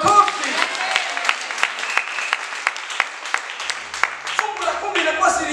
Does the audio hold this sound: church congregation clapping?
yes